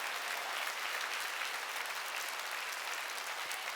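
A church congregation at a Wednesday worship service applauds together, a dense, sustained wash of clapping from many hands that holds steady and fairly loud without a break.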